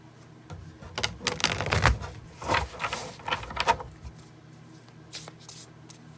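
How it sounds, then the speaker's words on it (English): A tarot deck is shuffled by hand in a quiet room, with bursts of crisp riffling and card slaps that come in several uneven rounds before trailing off. "Let's give them a good shuffle up."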